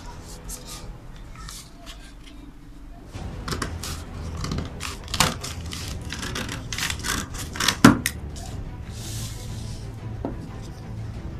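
Scissors cutting fabric for the peplum of a baby dress, irregular close snips and rustling handling noise, with a louder crunch partway through and soft background sounds.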